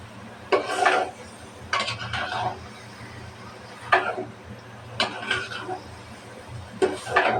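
Shrimp curry sautéed and stirred in a pan: repeated bursts of spatula scraping and clattering against the pan over a low sizzle, several strokes spaced apart, with some background noise.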